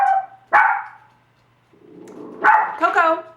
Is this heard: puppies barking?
yes